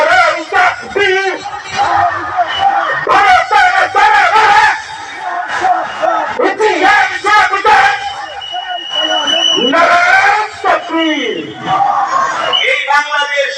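Crowd at an outdoor Islamic sermon gathering (waz mahfil) in Comilla chanting takbir in loud, repeated collective shouts, surging in waves over roughly a dozen seconds with voices overlapping.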